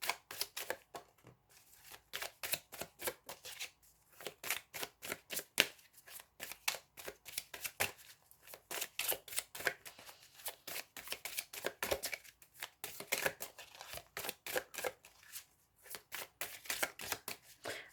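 Tarot cards being shuffled by hand, rapid rustling riffles and flicks in repeated bursts with short pauses, close and fairly quiet, no voices.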